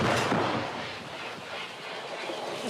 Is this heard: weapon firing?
yes